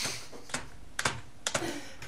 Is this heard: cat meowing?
no